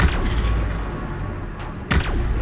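Gunfire in Subnautica, with two sharp shots, one at the start and one near the end, ringing out over a steady low rumble of background game ambience.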